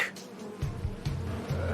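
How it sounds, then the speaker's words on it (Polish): Buzzing drone of bees in a cartoon, low and steady with a few louder swells, no voices. "Kwiaty zwabiły głodne pszczoły!"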